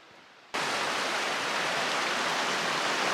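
Deep Creek flows down a snowy mountain valley along the Continental Divide Trail, its water rushing as a loud, even hiss that starts abruptly and then holds steady.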